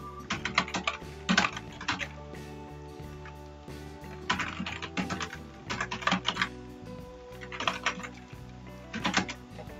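Fast clicking on a computer keyboard while typing a resume in MS Word, coming in close bursts of keystrokes separated by short pauses, with no talking over it.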